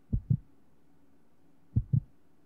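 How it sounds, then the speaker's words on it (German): A heartbeat sound effect in the video game Resident Evil Code Veronica X thuds twice, then twice again after a pause, a deep, close and loud lub-dub pair over near silence. "Mein Controller vibriert und ihr hört den Herzschlag."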